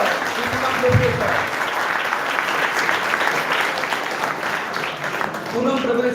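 An audience applauds steadily at a school felicitation ceremony for higher secondary commerce toppers, a dense, sustained round of clapping with voices mixed in throughout.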